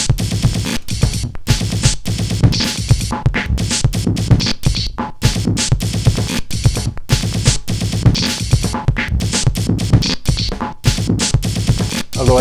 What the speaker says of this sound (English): breakbeats off of a modular synthesizer system.